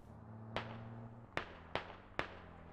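Four sharp gunshots in the Squad military video game, spaced irregularly over a low steady hum, each crack decaying quickly.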